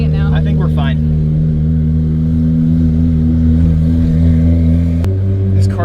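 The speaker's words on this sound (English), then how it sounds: "This car sounds so good." A car engine idles with a deep steady rumble, and a brief rev briefly lifts its pitch before it settles again. A voice sounds faintly over it near the start.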